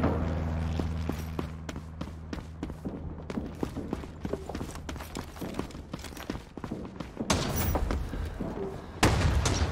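Gunfire in the Vietnam-era shooter game Rising Storm 2: Vietnam, rapid bursts of rifle shots cracking in irregular volleys with heavier booms near the end, dense and close.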